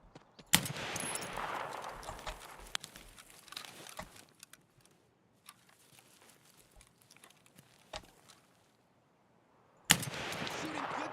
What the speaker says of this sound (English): Shooting good guys, you asshole!